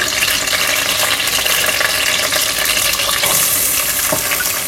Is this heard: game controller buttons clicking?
no